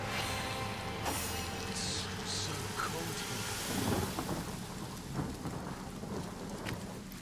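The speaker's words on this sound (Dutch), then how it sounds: "ja, ik ga wel even regenen." Heavy rain and rolling thunder summoned by a spell in the video game Divinity: Original Sin, a dense roaring downpour with a deep rumble swelling midway, loud and continuous.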